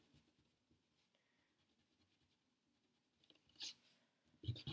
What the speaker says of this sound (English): Now I'm going to erase my guiding lines.